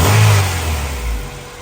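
A Honda Civic with a swapped-in GSR engine revs hard and close, a loud throaty blip that falls back and swells again briefly.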